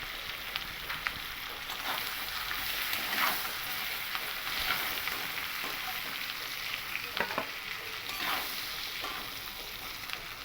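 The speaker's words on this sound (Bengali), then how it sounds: "দেখুন এখানে আমার চিংড়ি মাছগুলো কিন্তু মোটামুটি ভাজা হয়েই গেছে" Prawns fry in a generous amount of hot oil, a steady close sizzle with crackling pops and occasional stirring scrapes, no talking.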